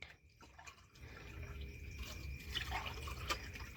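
Water dripping and trickling into a container during a filling game, growing steadier as it runs, heard at a moderate level under faint background noise.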